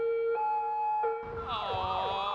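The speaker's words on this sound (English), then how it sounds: "There's no worse sound in the world than hearing that siren" A loud police siren wails close by, first as a steady two-tone blare, then shifting into a rising and falling yelp.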